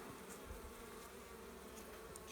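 Honey bees hum in a steady, faint, unbroken drone around an open hive during a spring inspection, with no voices.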